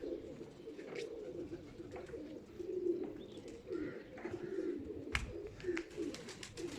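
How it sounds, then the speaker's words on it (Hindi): A flock of pigeons coos in a low, continuous murmur, close by, with a few sharp flutters and taps as birds land. "बस ये एक दो रह गए ऊपर, बाकी सारे बैठ गए हैं कबूतर"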